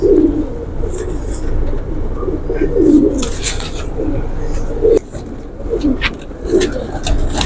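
A female Hira Lal pigeon, one of a pair, gives repeated low, throaty coos close by over a steady background murmur.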